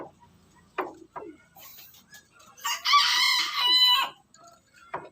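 A rooster crows loudly and close by, one long drawn-out call, with scattered clucks and faint background noise before and after.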